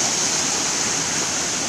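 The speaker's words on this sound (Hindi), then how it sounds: "देखिए यहाँ पर यही दुर्गा धारा है, यहीं से पानी निकलता है पहाड़ से होकर।" Mountain water flowing down at Durga Dhara in Amarkantak, a loud, steady rushing and splashing roar like a small waterfall, continuous and close with no voices.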